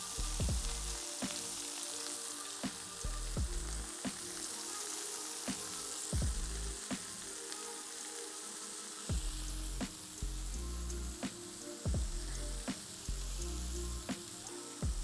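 Bacon cheeseburger patties sizzle loudly and steadily in a pan, a dense close frying hiss broken by regular sharp clicks and pops, with no talk.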